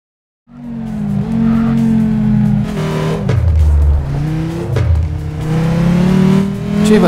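Car engine in the racing game CarX Drift Racing Online, revving and shifting pitch steadily with tire squeal and skidding, loud and close throughout with no talk.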